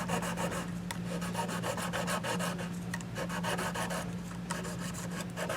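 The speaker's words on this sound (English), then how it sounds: "Just trying to get the dirt off of them. If there's any corrosion on there, it comes off." Parts of a Japanese-made guitar are rubbed clean of dirt and corrosion, producing a rapid, rhythmic scraping like filing, close and steady, with a low hum underneath.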